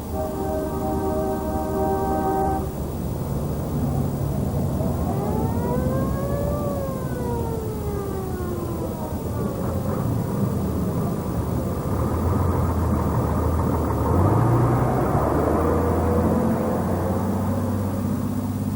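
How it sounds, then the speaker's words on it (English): Convoy of cargo trucks from Gilgit rolling into Kashgar at the end of October, horns sounding: sustained harmonic horn blasts at the start and sliding wails midway over a steady rumble of idling and moving engines. "we saw a caravan of trucks arriving in Kashgar, their horns blowing"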